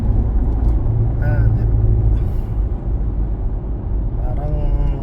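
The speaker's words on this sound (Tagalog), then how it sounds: "Tumabit ang truck na to eh." A truck passing close alongside on a busy city street, its steady engine rumble and road noise filling the whole stretch, with a brief air-brake hiss and other traffic around it.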